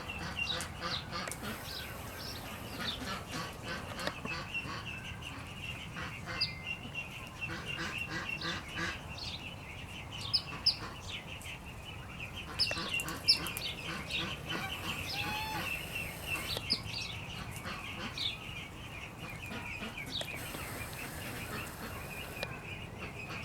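Ducks quack and chatter repeatedly over a steady outdoor background, some calls near and others farther off, with occasional louder honks.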